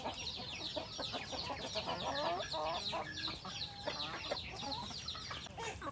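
Chickens in a range pen cluck and chatter continuously, several birds overlapping in a busy, nearby flock sound.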